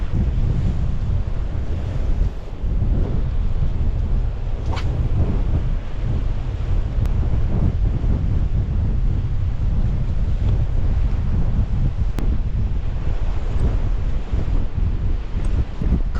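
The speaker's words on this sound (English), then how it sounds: "Wind is blowing so hard, the ball in the line is ridiculous." Strong wind blasting across the surf at Montauk on Long Island, with heavy, continuous roaring gusts over crashing waves and rumbling microphone buffeting, loud and steady throughout with no talking.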